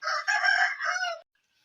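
A village rooster crows once, close and fairly loud, in a single drawn-out call of about a second with no other sounds around it.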